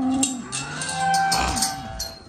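Cattle moo in long, low, drawn-out calls that overlap, nearby and fairly loud, with rustling movement around them.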